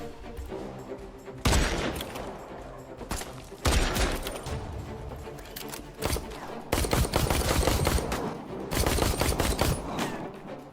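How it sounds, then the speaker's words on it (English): Repeated bursts of automatic gunfire in the first-person shooter Secret Sand, several loud rapid volleys separated by short quieter gaps. "the gunplay in this game feels really satisfying"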